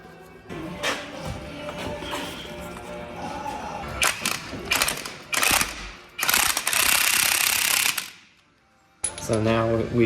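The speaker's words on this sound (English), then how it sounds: "hit it with an impact until we get the correct preload" Impact wrench hammering on the pinion nut of a GMC Jimmy rear differential, loud ratcheting bursts in a garage with metallic clatter, a brief silent gap, then a tonal whir at the end.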